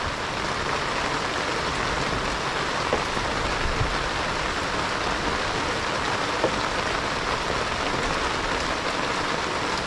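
Steady rain pours down during wet weather, a dense, even hiss of drops on surfaces that stays constant throughout, close and fairly loud, with no talking.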